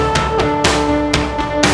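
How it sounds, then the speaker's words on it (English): Music plays through a high pass filter, quieter than before, with steady tonal notes and recurring percussive hits and no voices. "this is what it sounds like with a high pass filter."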